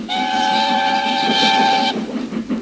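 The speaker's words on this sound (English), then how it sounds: "Presently, he heard a whistle." A loud steam locomotive whistle sounds a sustained chord for about two seconds, then cuts off, leaving a rhythmic chuffing behind.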